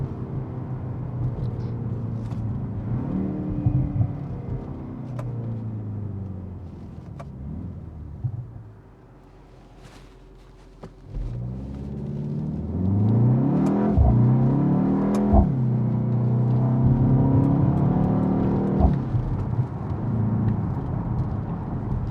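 A 2025 BMW X2 M35i accelerates in a low gear with artificial engine sound played through the cabin, a broad rising drone that dips briefly midway and then swells louder and steadier, with no talking.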